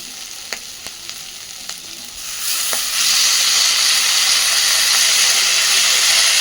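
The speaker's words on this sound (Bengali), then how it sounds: "ধনেপাতাটা দিয়ে আবারও মিনিট দিয়ে খুব ভালোভাবে সব কিছু ভেজে নেব।" Flat beans with chopped coriander leaves fry in a pan: a few sharp stirring clicks over a low sizzle, then the hiss swells loud and steady once the leaves go in.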